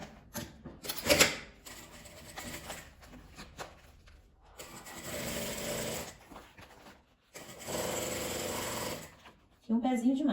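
A sewing machine stitches a clear crystal plastic pouch with a zipper, in two steady runs of rapid whirring with handling noises and a brief voice between them.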